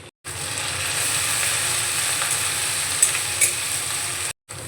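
Ginger and garlic paste hitting hot oil with browned onions and slit green chillies, a loud continuous close sizzle holding steady for several seconds before cutting off briefly near the end.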